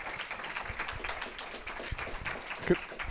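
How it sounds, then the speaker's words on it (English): Audience members at an NHS panel discussion give a modest round of applause, scattered claps rising and falling at moderate distance, with one sharper knock near the end. "So if we could have a round of applause for them and thank them for coming."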